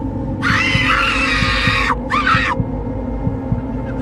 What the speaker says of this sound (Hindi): औरत चीखती है,